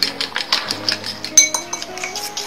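Semolina being mixed with eggs in a bowl for a syrup-soaked sweet pitha, giving quick irregular clinks and scrapes of a utensil against the bowl, close and moderately loud with no talking.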